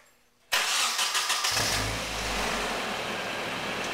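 An engine starting up for the first time: a brief cranking whir, then it catches and settles into a loud, steady idle with a low rumble, close by, with no talking.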